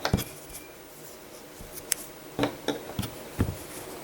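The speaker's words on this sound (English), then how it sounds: "We're going to cut our yarn" Scissors snipping crochet yarn, giving a few soft, short crisp cuts and light handling rustles, close and fairly quiet.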